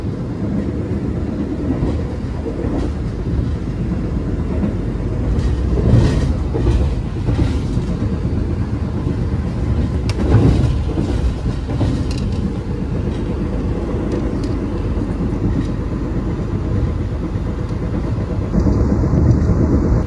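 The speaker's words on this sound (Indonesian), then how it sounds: "Kereta BBM ini kayaknya dari Cilacap ke Remulu." A fuel tanker freight train passing near Sentolo station, heard from aboard another train: a continuous heavy rumble with rhythmic clattering of wheels over rail joints, loud and close for the full twenty seconds.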